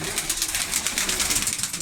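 Crested ornamental fancy pigeons coo continuously in a loft in Ankara, a dense overlapping warble of throaty calls heard close and fairly loud.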